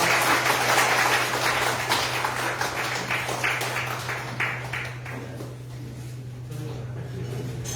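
Party members at a Democratic Party core-member meeting in Jeju applaud to close a session with a Supreme Council candidate: dense, loud clapping that thins and fades out over several seconds, with a steady low hum throughout.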